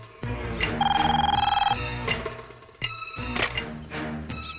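A telephone rings in repeated electronic bursts, loud and close, with short pauses between the rings and a faint musical background.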